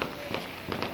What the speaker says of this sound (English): there's fireworks going off somewhere